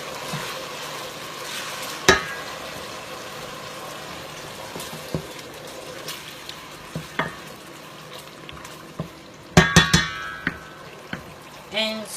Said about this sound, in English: the onions have gone nearly brown, so I'm going to be adding my tomato puree